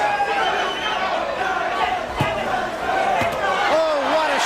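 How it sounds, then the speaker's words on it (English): A boxing crowd at a Mike Tyson versus Jose Ribalta heavyweight bout roars in a sustained wash of cheering and shouting, with a commentator talking over the arena noise. "the crowd, again, showing its both appreciation and support for Jose Ribalta."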